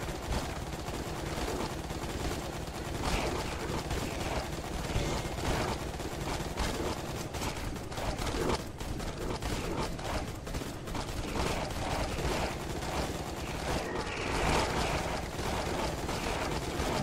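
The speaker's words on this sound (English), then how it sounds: "There are large explosions and lots of guns" Dense gunfire and explosions from the video game Gunnheim form a loud, continuous barrage of rapid shots and booms that runs without letup.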